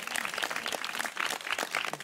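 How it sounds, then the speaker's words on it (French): A small audience applauds a prize winner at a queer festival comedy game, a brief patter of scattered clapping, fairly quiet and steady for about two seconds. "Bravo à toi, on l'applaudit"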